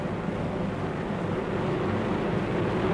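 Four 2,200 horsepower aircraft engines turning 16.5-foot Hamilton propellers roar in a dense, steady drone with no break, loud and close.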